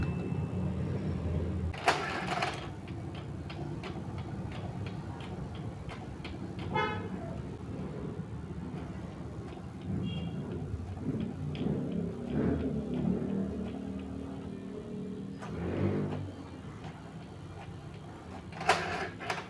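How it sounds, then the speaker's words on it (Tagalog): A printer printing an electricity bill runs with a steady mechanical whir and intermittent clicks and clunks as paper feeds through, with a louder clack near the start and end. "nakaprepare na po ang aking printer. So, click na po natin ang print."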